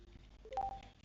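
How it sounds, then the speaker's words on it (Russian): A short electronic phone notification chime sounds once near the middle, a couple of quick rising tones over a quiet room background. "Мне уведомление пришло"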